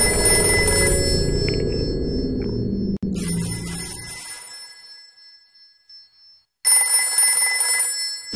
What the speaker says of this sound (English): Don't pick up the phone, please.